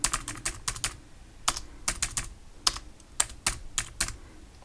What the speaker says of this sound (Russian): Сюда прикасаемся, и можно набирать текст.